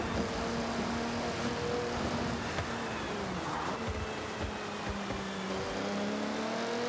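A car cruises in the video game Forza Horizon 6, its engine humming at a moderate, even level. The tone shifts gently in pitch as the car accelerates and eases off, with no voices over it.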